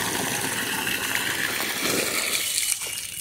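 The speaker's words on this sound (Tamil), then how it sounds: "க்ளோஸ் பண்ணிட்டோம்னா தண்ணி ஏறுது, தண்ணி டேங்குக்கு ஏறிட்டுருக்கு" Water gushes steadily through plumbing into a tank after a valve is closed, a continuous rushing hiss that eases slightly near the end.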